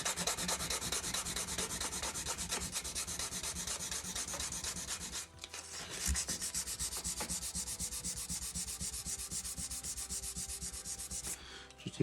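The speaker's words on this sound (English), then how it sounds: "There's a little bit there that needs sanding off." Wood on a guitar build being sanded by hand with 240-grit sandpaper: steady, continuous rasping strokes close to the mic, with a brief pause partway through before the rubbing resumes.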